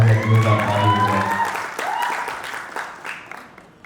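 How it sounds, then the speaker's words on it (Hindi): After a brief voice, a crowd breaks into loud, scattered applause for film producer Abhay Sinha, clapping building and continuing to the end. "मैं चाहूँगा कि जोरदार ताली हो जाए।"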